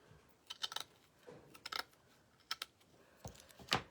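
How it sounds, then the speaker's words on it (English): Scissors trim the overhanging edge of burlap, a run of sharp, irregular snips and crisp clicks in small clusters, close and dry, with no talk. "I'm just trimming my edge on that burlappy part that hung over."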